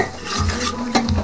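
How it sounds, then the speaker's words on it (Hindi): Spices tempering for rajma in a pan, with a soft continuous sizzle broken by a few close clinks and scrapes of a utensil stirring against the metal. "तड़का लगने लग गया है स्टार्ट।"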